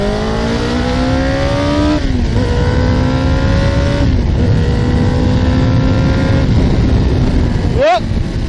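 A 1986 Kawasaki GPZ900R motorcycle engine revs up loudly through repeated gear pulls, each rising whine dropping at the shift, with a sharp throttle blip near the end and heavy wind rush throughout.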